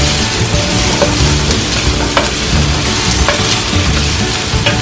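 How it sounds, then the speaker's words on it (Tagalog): Garlic and onion sizzle loudly in hot oil in a pan for spicy pork adobo, a dense, continuous frying hiss with occasional stirring scrapes, close and steady throughout. "Nag-brown na kaagad yung ating bawang kasi mainit na yung mantika natin kanina eh."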